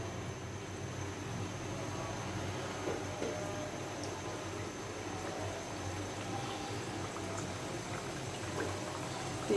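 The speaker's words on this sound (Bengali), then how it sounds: "এখন আমি নিমকিগুলো একে একে দিয়ে দেব। হালকা গরমের ভিতর দিয়েছি আমি।" Nimki pastries frying in moderately hot oil, a steady dense sizzle and bubbling that holds at an even level throughout, close and continuous with no talk.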